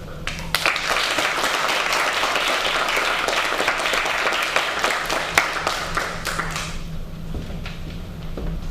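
An audience claps steadily to welcome a professor introduced at a humanities forum talk on Cherokee storytelling, with dense, even applause that fades out near the end.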